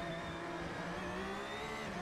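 A race car engine screams on the Laguna Seca circuit in Assetto Corsa, a steady, high, strained drone held at speed, heard faintly with no talk over it.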